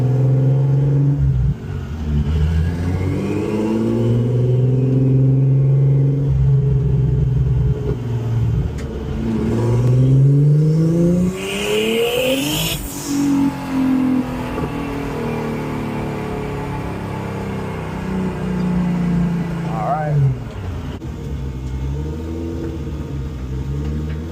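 A Saab TurboX tuned to 800 hp pulling hard through gears, engine revs climbing and dropping in repeated sweeps, loud from inside the car, with turbo whoosh near a gear change.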